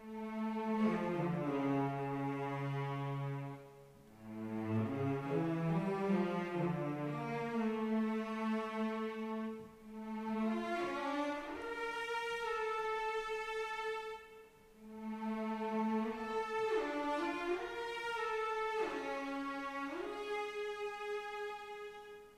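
Sampled cello section from the 8Dio Adagio library in its legato cantabile articulation, playing a slow, expressive melody of sustained notes that glide smoothly into one another and swell between short pauses, heard alone with no talking.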